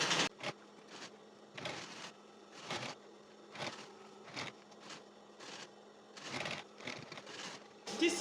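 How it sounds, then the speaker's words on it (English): Sewing machine topstitching the leather panel of a crossbody bag with multiple pockets, running in short bursts of rapid whirring separated by brief pauses, close and fairly quiet, with no talking over it. "I'm top stitching only the leather"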